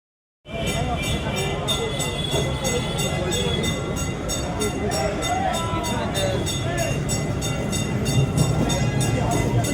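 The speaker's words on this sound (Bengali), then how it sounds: "তো এটা হচ্ছে সেই পুরোনো দিনের যে কাঠের ট্রাম আছে" An old wooden tram in Kolkata passes close by with a loud, steady rail rumble and a rhythmic clickety-clack of wheels that runs unbroken from start to finish.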